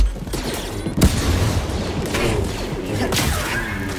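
Blaster and gunfire in the Star Wars Jedi Fallen Order game: a dense, noisy barrage with a sharp crack near the start and more bursts later, loud and close, with no voices.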